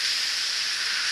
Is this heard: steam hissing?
yes